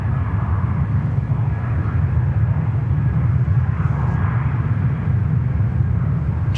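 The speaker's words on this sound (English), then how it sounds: "Jetstar on the roll, runway 34 left." A Jetstar airliner takes off on runway 34 left at Sydney Airport, heard as a loud, steady, deep engine roar and rumble that holds without a break.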